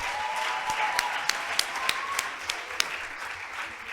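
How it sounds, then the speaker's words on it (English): Audience applause for debaters at an HIV and adolescence debate session, a steady wash of clapping from a room full of people, with a few sharper individual claps standing out near the end. "big round of applause for our debaters."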